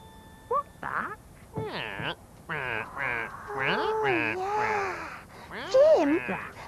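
A puppet duck quacks in a series of nasal, comical quacks voiced by a performer in a children's television show, with squawky chattering bursts in a rising and falling rhythm, close and clear.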